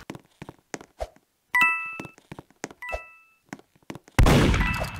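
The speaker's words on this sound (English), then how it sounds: "Uh-oh, somebody shot at me." A gunshot in the Roblox game Murder Mystery 2 bursts out near the end as a loud, sharp blast, following a series of short clicks, thuds and ringing chime-like game effects.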